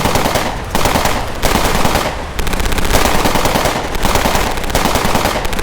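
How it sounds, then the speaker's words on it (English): Sustained automatic gunfire in a close-range exchange, with an AK-47 rifle among the weapons. Loud rapid bursts follow each other with only brief pauses. "Two positions began firing at each other, but one had the crack sound of an AK-47 rifle."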